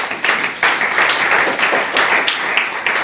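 A church congregation claps together in a loud, steady rhythm of repeated beats, filling the room for a few seconds.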